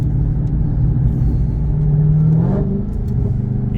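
A Dodge Charger Redeye's exhaust rumbles steadily at close range, a deep continuous drone that swells slightly midway through.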